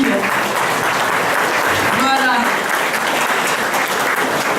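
Applause from a dinner-conference audience in Quebec, dense and steady throughout, with someone briefly speaking over the clapping.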